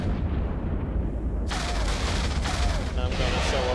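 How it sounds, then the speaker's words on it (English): A battleship-size torpedo weapon fires in a space combat game, a sudden booming burst that breaks in after a quieter stretch and rumbles on with crackling blasts. "that's a torpedo"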